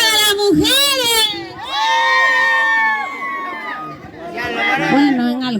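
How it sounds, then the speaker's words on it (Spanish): Group of women letting out a loud war cry at an event, shrill rising shouts and whoops in bursts over crowd chatter and cheering. "si mandan las mujeres, el grito de guerra de las mujeres"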